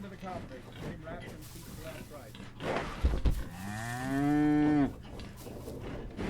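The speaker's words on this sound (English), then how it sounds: "No, it's a cow." A cow moos in the ship-deck game Return of the Obra Dinn: one long, loud, rising and falling bellow mid-clip, set over steady low ambience with people talking before it.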